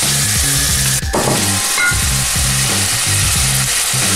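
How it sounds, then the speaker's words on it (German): Fish sizzles in a hot pan with chili flakes, making a dense, even hiss of frying with brief stirring scrapes over a steady, rhythmic low-pitched background beat. "Jetzt kommt schon der Fisch dazu."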